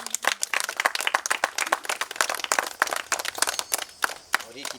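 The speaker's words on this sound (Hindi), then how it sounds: "जोरदार ताली होनी चाहिए" A crowd at a ceremony in a Buddhist vihara in Besa, Nagpur, claps for a child, with dense, steady applause running throughout and voices audible beneath it.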